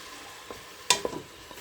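Pork ribs being sautéed in a pan, a soft sizzle with a few stirring scrapes and clinks, one sharper clack midway, short and fairly quiet.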